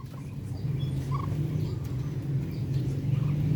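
Muscovy ducks and native chickens on a Filipino farm give low, breathy calls and murmurs that overlap in a steady chorus nearby, with a few faint higher chirps above.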